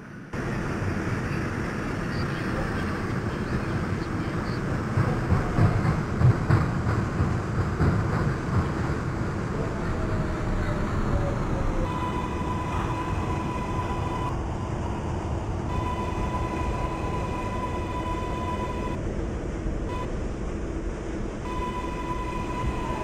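An R142A subway train on the 6 line in the Openbve train simulator game rolls along with a steady low rumble and rattle. Partway through, sustained electric motor tones and chimes rise and fall, all without talking.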